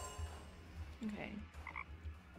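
Frog croaking in the point-and-click game Deponia, a few short croaks over a low background hum, fairly faint and with no talk over them.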